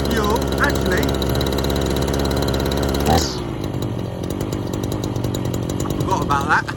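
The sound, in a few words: small engine running at high idle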